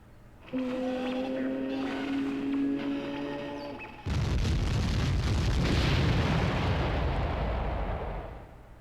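In The Legend of Zelda: The Wind Waker, a loud game explosion bursts in midway and rumbles on as a broad, decaying blast after a stretch of tonal game music.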